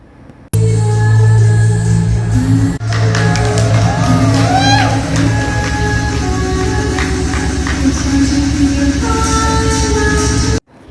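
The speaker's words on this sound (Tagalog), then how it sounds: "hiyawan ng mga tao na makita silang super sweet sa isa't isa" At a fashion show, a large crowd cheers and screams steadily as a celebrity couple walks together toward center stage. Sustained, loud shouting and whooping fill the room, with voices rising above the roar.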